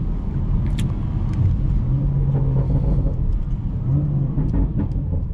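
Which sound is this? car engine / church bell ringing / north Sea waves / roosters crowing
car engine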